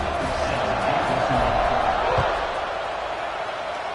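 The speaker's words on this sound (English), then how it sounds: "this crowd is buzzing after that last score" Stadium crowd buzzing after a touchdown in the college football video game NCAA 26, a steady roaring wash of noise that fills the whole clip at even loudness with no distinct voices.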